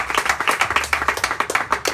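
A church congregation claps together in a steady, brisk rhythm of sharp, even hand claps, close and lively, with no talking.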